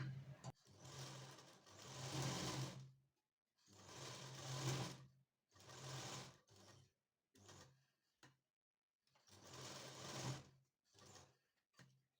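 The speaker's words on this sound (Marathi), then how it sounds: "अशा पद्धतीने ह्या भागाला पूर्ण टीप टाकून घेतली" A sewing machine stitches along the V-shaped neckline of a belt-style blouse in several separate bursts, each a quiet, steady whirring run with short pauses between.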